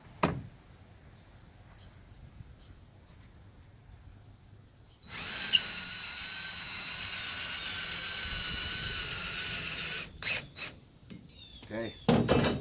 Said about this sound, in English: Now we have to make sure we drill straight.